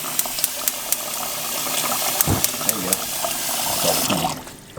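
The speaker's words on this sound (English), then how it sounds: "pot filler" Water runs steadily from a kitchen pot filler faucet into a pot, a continuous hiss with scattered clinks and rattles, while people talk nearby.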